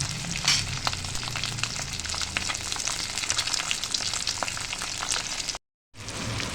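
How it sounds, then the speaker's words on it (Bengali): Halved duck eggs fry lightly in hot oil in a pan, giving a steady, close crackling sizzle with scattered pops that runs throughout, broken only by a brief moment of silence near the end. "অর্ধেকগুলো যেগুলো হাফ করে নিয়েছি সেগুলোকে আমি হালকা ভেজে সব কটাকে তুলে নিচ্ছি"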